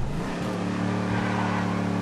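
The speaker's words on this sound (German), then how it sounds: "Siehst du, ich fahre ja gerade mit dem Mustang." A Mustang being driven in the video game GTA Online, its engine holding a steady, loud droning note with a slight rise in revs partway through, heard close and with no voices over it.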